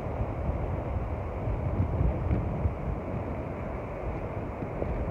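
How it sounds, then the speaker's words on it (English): Steady coastal wind blowing and buffeting outdoors at Cape Leeuwin, Western Australia, a constant low rumbling roar with no voices. "It's always windy here,"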